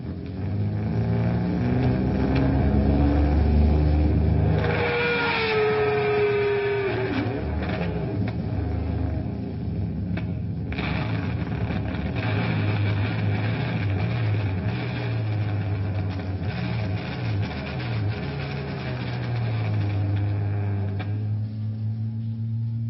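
A fuzz-tone electric guitar bent with a whammy bar imitates a revving motorcycle at the opening of a song, with gritty sustained tones swooping up and down in pitch like an engine throttling, loud and continuous.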